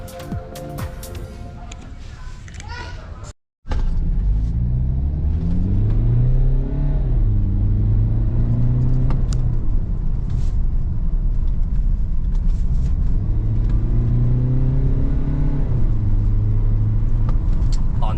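After a brief burst of noise, a BMW E60 turbodiesel with an open valved Euro Arts exhaust revs hard several times, each deep, booming rise falling back to a rumbling idle.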